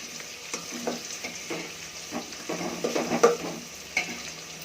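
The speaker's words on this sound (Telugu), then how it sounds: "ఉల్లిపాయ ముక్కలు ఫ్లేమ్ ఎక్కువ చేసుకొని కొంచెం మగ్గనిద్దాం." Chopped onion pieces fry on a high flame for masala rice, giving a soft sizzle with intermittent stirring and scraping sounds in a pan; no talking.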